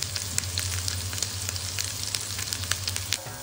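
Beef for roast beef sears in a frying pan with garlic, a close steady sizzle with dense crackling spatter and a low hum beneath, continuous throughout with no talking.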